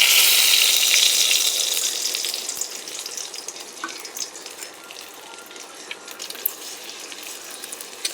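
An egg hitting hot oil in a pan, a loud bright sizzle at first that gradually settles into a quieter, crackling fry with scattered small pops.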